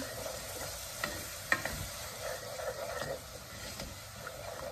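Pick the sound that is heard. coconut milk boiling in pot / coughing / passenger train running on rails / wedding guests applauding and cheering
coconut milk boiling in pot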